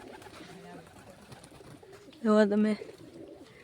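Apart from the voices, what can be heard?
pigeons cooing on a rooftop pigeon setup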